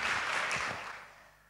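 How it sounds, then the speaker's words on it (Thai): Audience applause after a lecture about King Rama IX and science and technology development, a short burst of clapping that fades out within about a second and a half. "ขอเสียงปรบมือให้อาจารย์สรันนะคะ"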